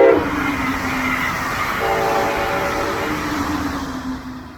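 A Brightline high-speed passenger test train passes a crossing at 110 mph, rumbling steadily with a loud horn blaring partway through, broad roaring noise fading slightly at the end.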